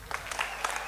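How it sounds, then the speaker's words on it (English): A short burst of audience clapping at the Nyéléni Global Forum, under a second long, with a few distinct claps standing out of a thin, scattered patter. "please clap as a sign of our deep acknowledgement"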